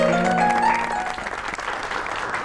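An audience claps at the close of a song on the TV music show Geo Sur Taal, dense steady applause with fading musical tones at the start, loud and sustained.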